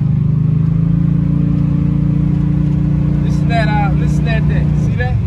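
1987 Monte Carlo SS with a rebuilt LS engine, a loud, steady low drone heard from inside the car as the throttle is feathered, with someone speaking over it near the end.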